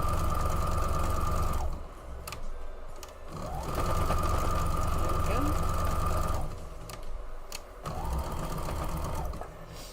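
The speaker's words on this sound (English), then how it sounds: "you don't take them off the machine, you just sew them one right after the other" Sewing machine chain piecing quilt blocks, stitching one block straight after another with no cutting between them. It runs in steady loud bursts separated by short pauses, and a person talks over it.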